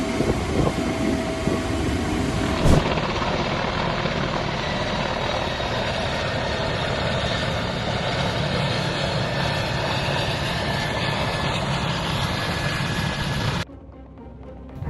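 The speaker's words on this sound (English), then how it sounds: "An aviation incident with a Mi-171A2 helicopter" A Mi-171A2 helicopter produces a steady loud engine and rotor roar, continuous and unchanging for about fourteen seconds, with a single sharp knock partway through, before cutting off abruptly to a quieter background.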